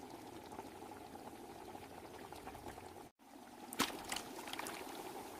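Water pours into a big pot of vegetables with a steady liquid rush throughout, briefly cutting out, then resuming with a splashier, brighter gush near the end; no voices are heard.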